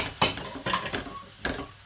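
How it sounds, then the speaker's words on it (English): Leek and potato soup being stirred in a pot, with a few distinct clinks and scrapes of a utensil against the metal at irregular intervals over a quiet low hiss. "Just want to give that another stir."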